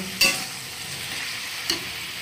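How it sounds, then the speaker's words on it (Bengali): Chili powder and ginger paste frying in a pan while being stirred, a steady soft sizzle broken by two sharp scrapes of a spatula against the pan. "দিয়ে দিলাম লঙ্কা গুঁড়া, দিয়ে দিলাম আদা বাটা, দিয়ে খুব ভালো করে এটাকে নাড়াচাড়া করে কষিয়ে নেব"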